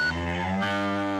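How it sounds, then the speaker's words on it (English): A single long cow moo, loud and close, sustained and harmonic-rich for over a second, with no talk. "The cows are calling."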